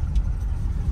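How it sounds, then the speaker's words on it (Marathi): A car comes ahead on a narrow single-lane village road, its low engine rumble close and steady through the brief moment. "पुढून गाडी आली आहे"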